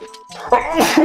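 A single sharp human sneeze from a tournament commentator, close to the microphone and bursting out after a brief quiet intake.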